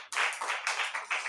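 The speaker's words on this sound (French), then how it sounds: "Applaudis pour le Seigneur." A church congregation claps together in a few quick rhythmic bursts, loud and close, with no talking over it.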